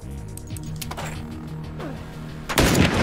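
Video game gunfire in a multiplayer shooter match, with a few sharp shots over a low droning background, followed by a dense loud burst of rapid fire near the end.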